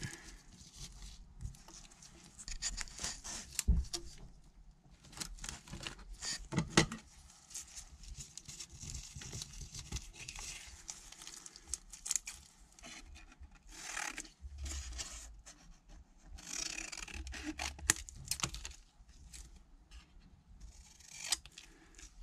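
Card is cut with scissors for a sparkly Christmas card: close, scratchy snips and rubbing come in uneven bursts, with short pauses between strokes.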